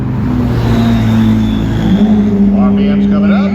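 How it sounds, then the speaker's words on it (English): Ferrari 458 fitted with an IPE exhaust accelerating hard in a drag race alongside a Lamborghini Huracan and McLaren 570S, a loud, continuous engine drone rising in pitch as revs climb, with commentary voices over it. "Love the sound of that Ferrari's exhaust"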